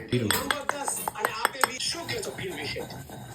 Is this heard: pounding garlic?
yes